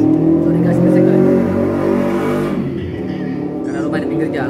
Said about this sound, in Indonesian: Karena rumah di pinggir jalan, jadi motor, mobil lewat ya begini resikonya.